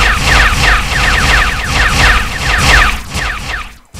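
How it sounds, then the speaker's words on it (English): Rockets fire in a video game with a loud, rapid mechanical volley of launches and booms, close and continuous, then a brief sharp drop to near silence just before the end. "How about some rockets?"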